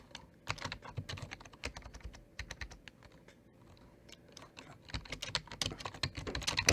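Close typing on a computer keyboard sitting right beside the microphone, quick clustered keystrokes in bursts with a brief lull midway, crisp and near.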